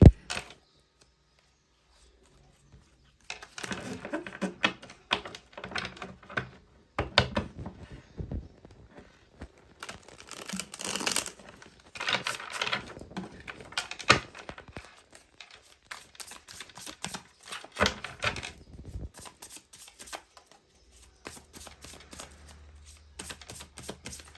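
Tarot cards are shuffled and drawn from a deck during a reading, giving soft, close riffling and slapping card sounds in irregular bursts with quiet pauses between them.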